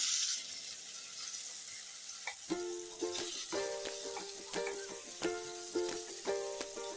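Chopped gooseberry (nellikka) pieces sizzle in ghee in a heavy-bottomed pan, a steady frying hiss with clattering stirs and scraping taps from about two seconds on, close and moderately loud.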